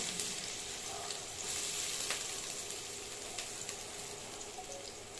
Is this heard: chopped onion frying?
yes